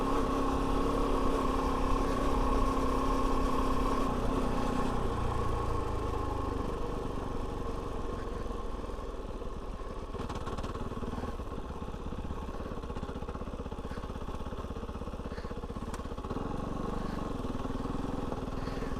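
A Kove 450 Rally motorcycle rides a dirt trail, its engine holding a steady, close mid-pitched drone with slight throttle changes throughout and no talking.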